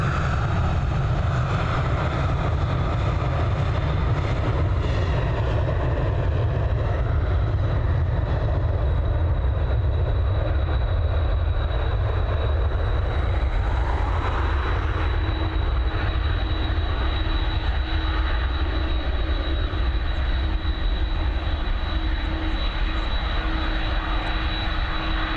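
An Airbus A321 jet taking off from Dublin Airport, bound for Frankfurt: a loud, sustained engine roar with a high steady whine, rising and then slowly easing as the aircraft climbs away, with no talking.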